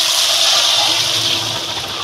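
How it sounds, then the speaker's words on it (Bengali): Lentil dal with jute leaves poured into a pan of garlic fried until red, giving a short steady rushing, sizzling splash heard close. "আমি এবার ডালটা ঢেলে দেবো।"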